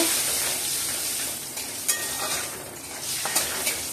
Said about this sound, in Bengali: প্রথমে একটু হিং দিয়ে দিচ্ছি, রাঁধুনিটা দিয়ে দিচ্ছি, কসুরি মেথিটা একটু হাতে ডলে দিচ্ছি, অল্প একটু ভেজে নেব।